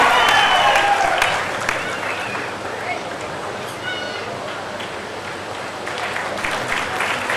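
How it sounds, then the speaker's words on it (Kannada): Loud applause from the audience at a large gathering of Kalyana Karnataka street vendors, a dense burst of clapping at the start that thins into lighter scattered claps and crowd murmur. "ಒಂದು ಜೋರಾದ ಚಪ್ಪಾಳೆ"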